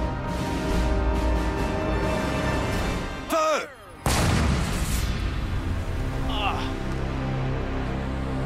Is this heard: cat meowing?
no